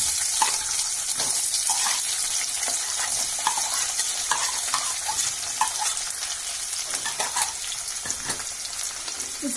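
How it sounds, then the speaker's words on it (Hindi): Onions and spices fry in a pan for a chicken curry, a steady close sizzle and crackle broken by occasional stirring clinks and scrapes, with no one talking. "प्याज को डाल देते हैं।"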